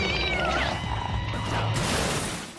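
A cartoon cat alarm meows and caterwauls in a drawn-out, wavering yowl, loud and continuous over a busy animated soundtrack, ending in a sharp hit.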